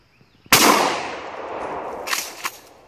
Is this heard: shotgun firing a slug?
yes